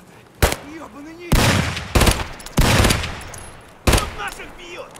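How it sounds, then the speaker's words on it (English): Gunfire in Escape From Tarkov, several sharp loud bursts in quick succession with decaying tails between them, close and forceful, a voice briefly audible between shots. "He's shooting at me."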